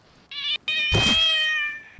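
A cat meows twice in Rust, a brief high note and then a longer, drawn-out caterwaul, loud and close with a soft thump in the middle.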